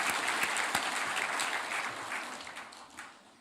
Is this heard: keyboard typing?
no